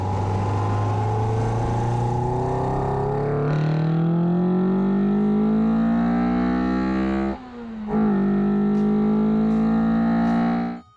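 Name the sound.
Toyota AE111 4AGE blacktop engine induction noise revving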